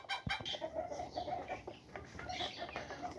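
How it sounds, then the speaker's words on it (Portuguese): Bantam chickens cluck and squawk noisily together in a farmyard flock, a busy, continuous chorus of overlapping calls close by. "Essa zoada todinha é os garnizé fazendo a festa."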